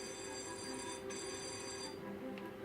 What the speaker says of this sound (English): We got a fire alarm activation.